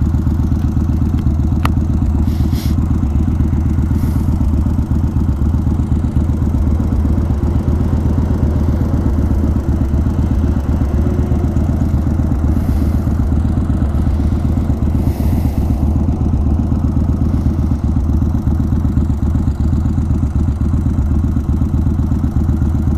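A custom Yamaha Warrior 1700 cruiser motorcycle rides along at a steady pace, its low, heavy engine drone loud, close and constant throughout, with faint clatter over the rumble.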